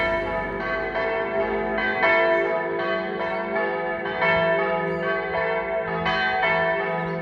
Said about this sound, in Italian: mentre suonano le campane